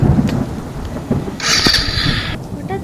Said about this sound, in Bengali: হঠাৎ এত জোরে বৃষ্টি শুরু হয়ে গেছে